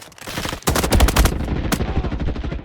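Rapid bursts of automatic gunfire in a Roblox video game, loud and close, with a dense volley of repeated shots in the middle followed by scattered single cracks.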